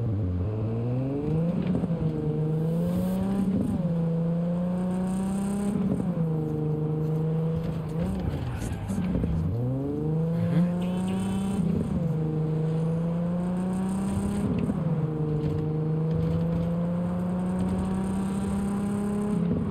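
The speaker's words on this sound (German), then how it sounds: "Das Auto hört sich so an, als wenn der richtig Gas geben würde, ne?" Car engine revving while driving in Cyberpunk 2077, loud and continuous, with repeated rising and falling pitch sweeps as the engine climbs and drops through the revs over twenty seconds, with no talking.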